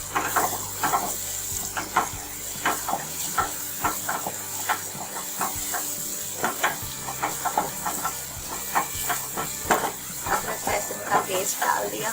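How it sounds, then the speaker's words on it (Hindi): Ginger garlic paste sizzles and fries in a hot pan while being stirred, a continuous hiss broken by repeated scraping strokes, with a voice talking intermittently over the cooking. "अब जाएगा इसमें अदरक लहसुन का पेस्ट 1 खाने का चम्मच।"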